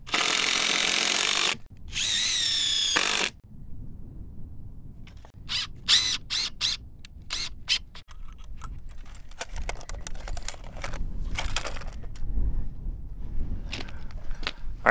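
A power drill briefly drives a screw into a wooden board at a barndominium pier foundation build, two loud whirring bursts up close followed by scattered clicks and knocks.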